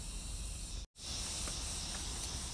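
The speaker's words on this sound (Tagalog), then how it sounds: "Ang ano nung huni ng mga kuliglig kanina" Steady high-pitched cricket trilling fills the air with a continuous outdoor drone on a morning walk to a waterfall, briefly cut by a split-second gap.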